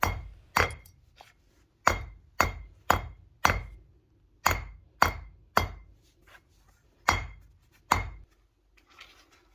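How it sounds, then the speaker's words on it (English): Sharp metallic hammer strikes on copper ring out one after another, about a dozen blows at an uneven pace with brief ringing decays and quiet gaps between. "I'll hammer it around the edge to give it some shape."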